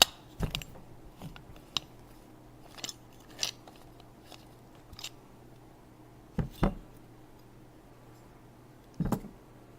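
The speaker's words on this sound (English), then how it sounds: "take your multi-tool, take out the glow plug" A multi-tool turns out the burnt glow plug of a nitro model engine, giving sparse, quiet metallic clicks and scrapes spaced apart, close up with no talking.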